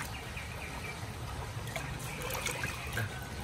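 Water flea scoop being rinsed in clean pond water, a soft continuous trickle and slosh with faint splashing, low and close.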